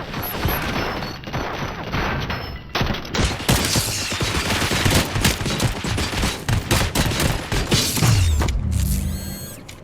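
Gunfire in the RoboCop: Rogue City video game: sustained loud automatic bursts with mechanical clatter, dense and continuous, then fading toward the end.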